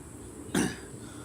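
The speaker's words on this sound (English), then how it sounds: "You gotta stop it with the coughing." A single sharp cough bursts out at close range, short and throaty, against a quiet room background.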